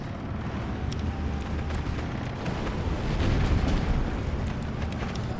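Mortar fire in the Steel Division II wartime strategy game, a dense continuous rumble of distant explosions and booms rolling under steady battlefield noise.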